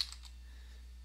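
Typing on a computer keyboard while working in an Excel spreadsheet: a few quick, faint key clicks at the very start, then a low steady hum.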